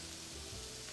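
Celery, onion and peppers sizzle steadily in a hot pan while eggplant caponata is being cooked, a close, continuous frying hiss with no voices over it.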